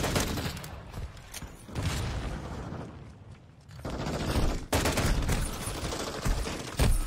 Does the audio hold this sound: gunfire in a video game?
yes